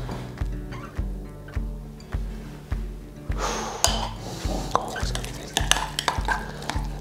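Butter, lemon and brown trout are stirred in a pan with a steady, regular scraping rhythm close by, joined partway through by sizzling and clinking.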